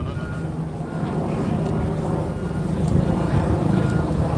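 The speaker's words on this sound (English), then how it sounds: "We've got a chopper overhead as well." A helicopter hovers over a New York City street scene, its steady, low, droning rumble holding evenly and swelling slightly toward the end.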